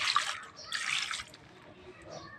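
Boiled bitter gourd, cooked soft, gets rinsed with water: two short splashy bursts of pouring and sloshing, then a quieter stretch with faint trickles and drips, fairly close.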